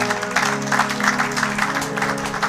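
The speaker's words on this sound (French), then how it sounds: "Acclamons pour la gloire de notre Dieu, notre Seigneur." Church congregation clapping and cheering together during a sermon, a dense continuous wash of applause with a few voices mixed in, filling the room at steady loudness.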